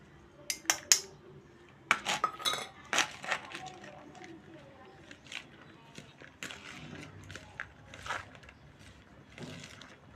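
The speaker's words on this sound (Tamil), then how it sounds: "அதையும் போட்டு ஒன்றா போட்டு கலக்கிறேன்." Curd pachadi ingredients are stirred together in a bowl, giving scattered clinks and taps of a spoon on the dish, with soft scraping in between. The sounds are close and fairly quiet, with irregular timing.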